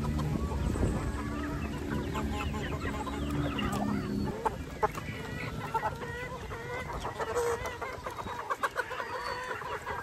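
White Kelso gamefowl chickens cluck and mutter close by in a steady run of short calls, with a low rumbling background throughout and no talk.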